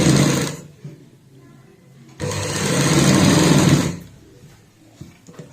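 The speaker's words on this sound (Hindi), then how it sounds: "आधा इंच का मार्जिन रखते हुए सिलाई लगाएंगे।" A sewing machine stitches fabric with a half-inch margin, running in two loud close bursts of rapid whirring, the first ending near half a second and the second running about two seconds, with quieter handling noise between.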